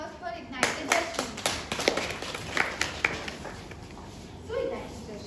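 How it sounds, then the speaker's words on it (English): A small group claps at a Holi festival meeting: scattered, uneven hand claps over about five seconds, close and moderately loud, with voices talking underneath. "Let's have a huge round of applause for Ignited Destiny."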